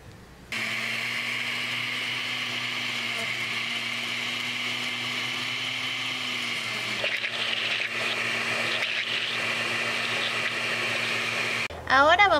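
A blender whirs steadily and loudly up close for the whole stretch, blending mango with condensed milk, its motor tone holding even, with a brief shift in pitch near the end.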